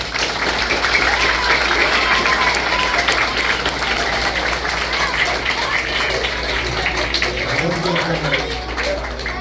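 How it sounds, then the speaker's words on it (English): A large crowd claps steadily and loudly for several seconds, a dense wash of applause with scattered cheers, gradually easing near the end. "can we give our parents a big round of applause?"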